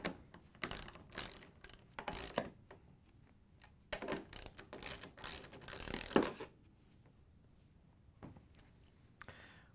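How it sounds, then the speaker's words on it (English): A 3/8 inch socket ratchet tightens screws on an adjustable hinge kit for a Frigidaire/Electrolux appliance, making bursts of quick, close clicking strokes that stop, followed by a couple of faint clicks. "we can use the 3/8" socket to put them in. Once you have them both started, we can tighten them down."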